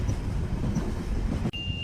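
A train running on rails produces a continuous close, heavy rumble that cuts off abruptly near the end, followed by a thin, steady high tone.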